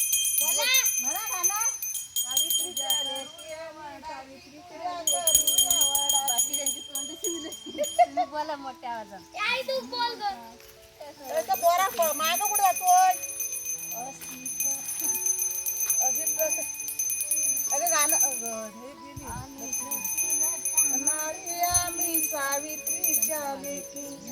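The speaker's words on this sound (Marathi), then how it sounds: "तुला घंटी वाजवायला ठेवलेली आहे" Bright bell tones ring on and off behind lively singing and chatter at a Vat Purnima village celebration in Konkan, with a few louder clanging bursts standing out near the middle.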